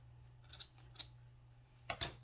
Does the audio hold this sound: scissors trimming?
yes